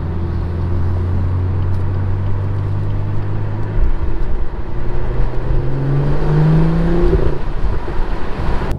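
A BMW M2 F87 with a modified exhaust cruising, heard from inside as a loud steady engine drone with rising pitch under light acceleration, no talking.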